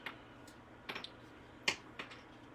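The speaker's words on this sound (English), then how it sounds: "Scissors." Scissors snip paper during a Stampin' Up paper-crafting session: a few faint, crisp cuts spaced irregularly over quiet room tone.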